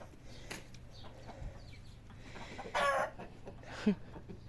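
Chickens on a hot summer day near a barn, soft scattered clucks and a couple of louder squawking calls close by, over faint background sound.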